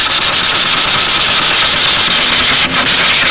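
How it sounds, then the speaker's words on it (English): Steady, loud rhythmic sanding on the outer surface of a model Spitfire tail, quick even back-and-forth strokes continuing almost without pause, close and alone. "Now I can get the outside sanded"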